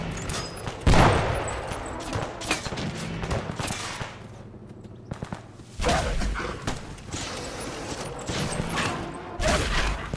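Enemy gunfire rings out in a Fallout 4 firefight, with volleys of close shots and loud impacts broken by short pauses, then resuming in bursts.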